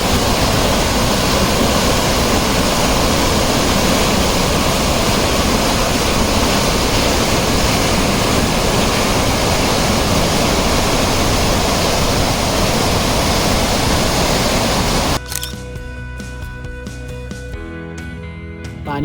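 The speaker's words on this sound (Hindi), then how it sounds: "ब्रिज के नीचे से डैम का पानी बहता हुआ दिखा" Loud, continuous roar of dam water rushing under a bridge fills most of the clip, dense and close, then abruptly cuts to a quieter scene near the end.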